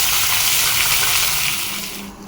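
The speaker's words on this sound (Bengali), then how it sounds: "এই যে মাছের মাথা ভাজা হচ্ছে এটা দিয়ে লাউ দিয়ে ঘন্ট রান্না করা হবে" A fish head frying in oil in a pan gives a loud, close, continuous hissing sizzle that holds steady throughout, ending with a single brief clink.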